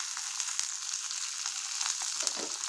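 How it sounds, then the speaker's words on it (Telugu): Green chilies and cumin seeds fry in oil for a gongura peanut chutney, making a continuous close, bright sizzle with a few faint crackles and no voices. "పచ్చిమిరపకాయలు అలాగే జీరా బాగా ఆయిల్లో వేయించేసుకున్నాను"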